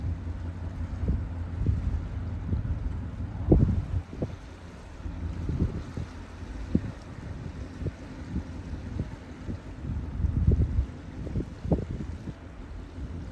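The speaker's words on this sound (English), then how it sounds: "I'm just going to try to get you some water sounds" Water lapping along the shore at Rockport, Texas, with gusty wind rumbling across the microphone, low surges and splashes rising and falling irregularly with no voices.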